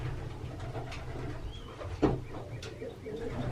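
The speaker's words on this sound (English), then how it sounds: "these are Bulck Kittel birds, the Kittel line" Young Van den Bulck Kittel pigeons coo softly in a loft, with a few low murmuring calls and faint chirps over a quiet background hum.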